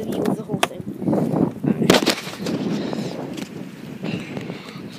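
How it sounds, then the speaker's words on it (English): Outdoor wind buffets the microphone beside a garage fort, producing rough, uneven low rumbling and sudden thumping gusts that persist throughout. "Sorry about that wind, guys. You can probably hear that."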